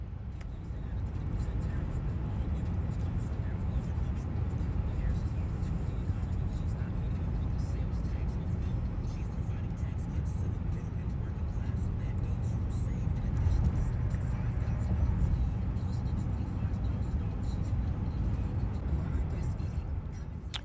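A car cruises on a road trip through Pennsylvania, New York and Vermont, giving a steady low interior engine and road rumble that stays even throughout with people talking faintly over it.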